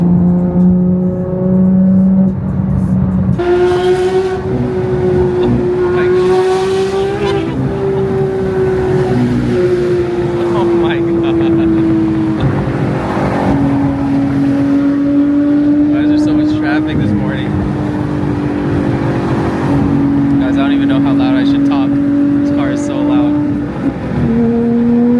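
A Porsche 992 GT3 engine drones loudly from inside the cabin while driving, holding a steady pitch that climbs and drops through gear changes, with passengers talking over it throughout.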